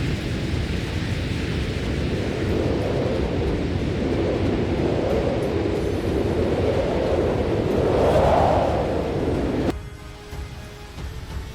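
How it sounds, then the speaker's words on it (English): Thunder rumbles through a storm as one continuous, loud, broad roar that swells near the end and then drops off abruptly, with no voices. "the sky darkens, and the storm rumbles like the roar of a giant monster"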